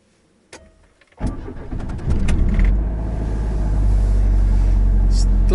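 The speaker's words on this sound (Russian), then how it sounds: "Заводим машину." A car engine is started nearby: after some handling noises and a key click, the starter cranks briefly and the engine catches, settling into a steady, loud idle.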